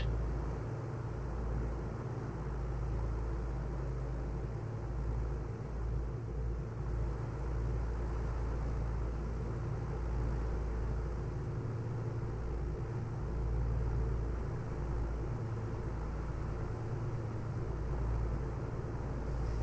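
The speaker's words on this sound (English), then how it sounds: "Okay, so there's both engines leaned." Twin piston engines of an Aerostar idling with mixture leaned in Microsoft Flight Simulator 2024, a steady low droning rumble with slight uneven pulsing, continuous and unchanging throughout.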